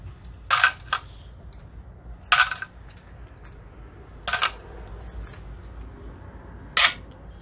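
Coins, including quarters and ten-cent pieces, are sorted and dropped into piles, making four separate bright metallic clinks spaced a couple of seconds apart over a quiet background.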